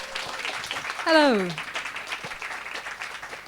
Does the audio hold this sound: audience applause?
yes